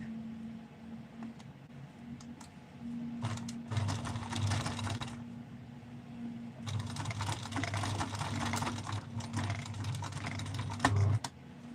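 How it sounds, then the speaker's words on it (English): A sewing machine runs in two bursts, stitching through thick fabric with a fast mechanical rattle, pausing briefly in between; a steady motor hum sits underneath, with no talking. "Let me sew from the other side."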